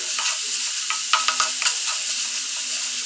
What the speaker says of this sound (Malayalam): ഇത് നല്ലപോലെ ഇളക്കി നമുക്ക് നല്ലോണം സവോളയൊക്കെ നന്നായിട്ടൊന്ന് വഴറ്റിയെടുക്കണം